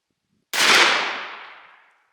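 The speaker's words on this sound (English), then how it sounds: "Same distance, same everything, same gun, just a custom TSS load from Arron." A single close, loud shotgun blast from a turkey gun firing a custom TSS load, with a sharp onset and a long decaying tail that fades out over about a second and a half.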